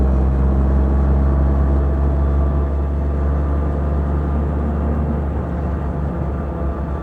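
Jay Leno's tank car engine gives off a loud, close, heavy low rumble that holds steady with only slight swells throughout.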